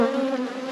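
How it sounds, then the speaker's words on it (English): A dense, steady drone of honeybees at an open hive during an autumn inspection before winter, close and loud with no break. "Plenty of bees."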